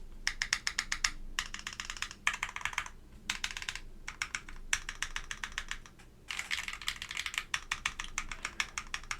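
Stabilized keys on an ETAR87 mechanical keyboard pressed in quick rattling bursts separated by short pauses, close and fairly quiet, with no voices.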